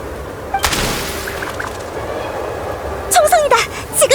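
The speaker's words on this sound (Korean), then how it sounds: "총성이다!" Gunfire in a video game set around a hunter's cabin, with a sharp report early on, then a burst of rapid shots later over a steady background rumble.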